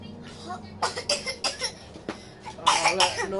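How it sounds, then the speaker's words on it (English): A person coughs repeatedly in short hacking bursts close to the microphone, mixed with talking and a low background hum. "Don't cough over me."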